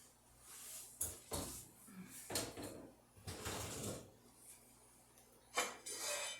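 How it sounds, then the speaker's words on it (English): An oven door opening in a home kitchen, a few separate clunks and creaks with hinge and metal rack clatter, fairly quiet and close, no talking. "So I'm going to open the oven."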